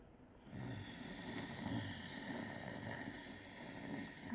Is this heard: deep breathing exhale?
yes